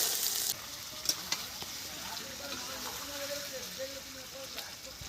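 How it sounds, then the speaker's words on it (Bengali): Potatoes fry with onions in a pan for a village-style Bengali meal, a soft steady sizzle with a few clinks of utensils against the pan and faint voices in the background. "তার সাথে আলুটাও ভালো করে ভাজা হবে"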